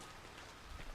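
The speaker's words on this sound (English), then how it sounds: "this is pretty gloomy of a place. It's always raining. It's got lightning storm." Faint, steady rainfall hisses over the gloomy, storm-lashed Fisher's End area in Dragon Age Inquisition on PS3, a soft continuous patter with a slight low thump near the end.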